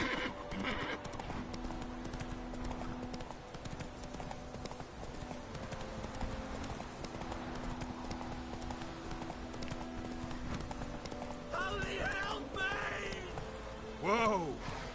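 Roach, a horse in The Witcher 3, trotting with steady rhythmic hoof clip-clops under game ambience, with a couple of whinnies near the end.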